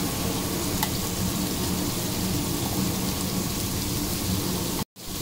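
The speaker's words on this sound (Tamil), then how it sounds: "நல்லா பச்சை வாசனை போக வரைக்கும் வதக்கி எடுத்துக்கலாம்" Onions sautéing in oil with ginger and garlic paste for chicken biryani give a loud, steady crackling sizzle throughout, with a sharp break near the end.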